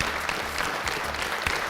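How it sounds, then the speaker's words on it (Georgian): Steady applause from an audience welcoming a guest, the well-known Georgian poet Zaal Lebanoidze, a dense even patter of many hands, moderately quiet and continuous throughout. "ეს აპლოდისმენტები თქვენ."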